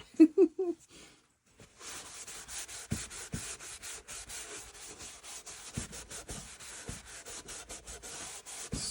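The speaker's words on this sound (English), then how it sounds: "All right, let's do this side now. I've got plenty of wax on here." Wax is rubbed by hand onto a piece of thrifted furniture: a steady, close, scratchy rubbing that runs nearly unbroken for about seven seconds, after a short burst of speech at the start.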